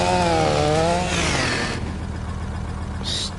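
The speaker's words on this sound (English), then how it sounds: "Just like the best of the best steel chainsaw." A steel chainsaw in the farming game Farming Simulator whines loudly at high revs, its pitch wavering and then sliding down as it settles into a rough, steady buzz while cutting wood, with a short higher note near the end.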